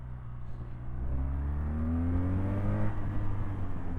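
A 2024 BMW R 12 Nine T motorcycle engine auto-blips close by, climbing smoothly in pitch to a strong rev and holding there, with no talking.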